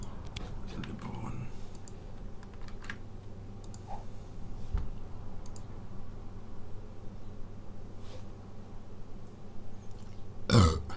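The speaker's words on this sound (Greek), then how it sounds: "Ντροπή, μη ρεύεστε." A single short, throaty burp erupts near the end of a livestream, rising above steady background hum and scattered faint clicks.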